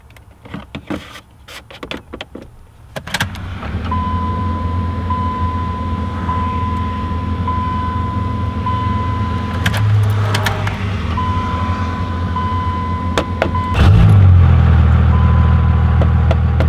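A Cummins diesel truck engine idles steadily with a low, constant hum, after a brief rattle of startup noise; the rumble grows slightly louder near the end.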